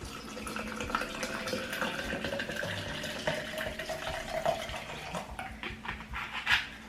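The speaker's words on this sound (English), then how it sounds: "So let me get some water. I'm gonna put in here and shake it up real good." Water pours steadily into a plastic shaker bottle, a quiet, continuous trickling fill that rises slightly in pitch toward the end.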